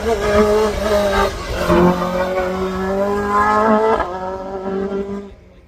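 A little Vauxhall Nova hillclimb car races past at the crossroads, its engine note climbing through gear changes in a loud, sustained howl before fading away at the end.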